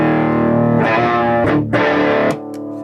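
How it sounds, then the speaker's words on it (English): Electric guitar played through a homemade distortion pedal, a loud, buzzing, saturated sustained tone with a couple of brief breaks and new strums before it fades, with no talk over it. "Some distortion. It's louder, it's distorted."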